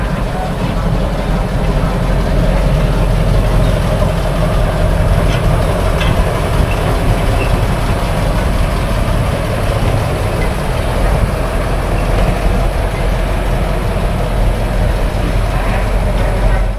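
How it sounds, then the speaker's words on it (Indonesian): A tourist train, just back from Tuntang station, idles at Ambarawa Railway Museum, giving a loud, steady, unbroken engine rumble throughout. "Ini kereta wisata yang baru balik dari stasiun Tuntang"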